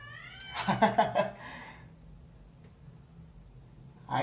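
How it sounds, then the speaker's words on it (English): A cat meows in a quick series of drawn-out, wavering cries, fairly close, then quiet, followed by one more short meow at the end. "Just my cat meowing in the background"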